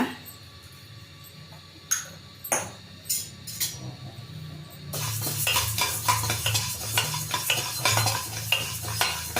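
Coriander seeds dry roasting in a pan for bisi bele bath powder, first sparse clinks of the spatula, then a dense, continuous rattling scrape as the seeds are stirred and tossed, close and fairly loud.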